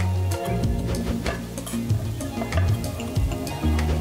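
Chicken and vegetables fry in a pan, a steady loud sizzle with scraping stirs over a low hum, close and continuous, with no voices.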